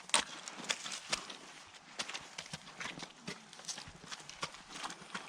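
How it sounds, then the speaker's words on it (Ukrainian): A young, large, tall draft mare walks on a Ukrainian farm, her hooves clip-clopping in an irregular series of fairly faint, moderately close strikes, with no talk over them. "Кобилка молода, велика, висока."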